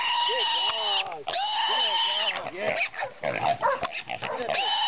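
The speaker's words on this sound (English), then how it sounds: "Get that pig, Tebow." Pig squealing loudly and repeatedly in high, wavering bursts while a dog chases it outdoors, with occasional dog noises and people shouting encouragement over the squeals.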